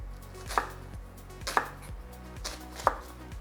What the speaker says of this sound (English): I'm going to start by slicing the onion,